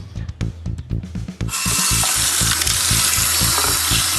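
A Braun Series 9 electric shaver is handled with a few soft knocks and rubbing sounds, then held under a running tap, and a loud, steady gush of water pours over it until the end.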